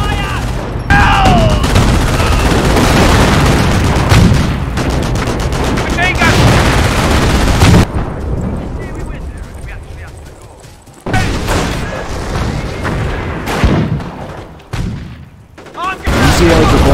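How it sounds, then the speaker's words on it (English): Dense battlefield gunfire and artillery from the World War II strategy game Company of Heroes, with rapid overlapping shots, heavy booms and constant loud clatter while shouting voices break through the din. "Receiving enemy fire! Taking heavy fire!"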